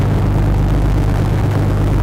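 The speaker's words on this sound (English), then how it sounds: "The simulation can be very relaxing if you get ASMR from the sounds of a highway" Highway traffic in the Truck Simulator video game: a steady, loud low engine and road rumble with continuous broadband noise, holding even throughout with no talk.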